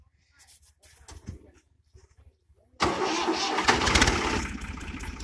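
An Al-Ghazi 65hp tractor engine cranks and catches at once, jumping to a loud, steady diesel clatter after a few seconds of faint background noise and scattered quiet sounds.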